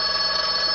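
A telephone rings in an office, a brief bright electronic trill that is close and clear, with no voices.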